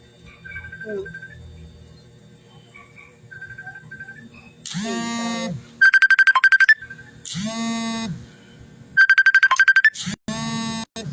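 A cellphone plays a loud electronic ringtone in repeated bursts with short gaps between them, after quieter tones at the start and a little talk.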